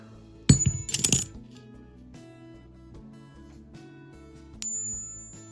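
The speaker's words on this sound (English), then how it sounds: "It's not quite that silvery sound from this 50-cent coin" Two metallic strikes of a non-silver 50-cent coin ring out close by, each with a bright, sustained ding that slowly decays, the second softer than the first.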